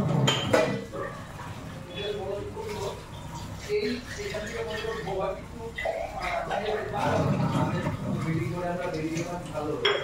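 Plates and dishes clink and clatter intermittently at a year-end outdoor picnic, fairly close, while several people chat nearby.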